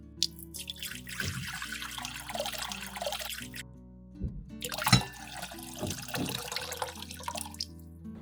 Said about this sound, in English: After 15 minutes, pour the water from the jar into a pot.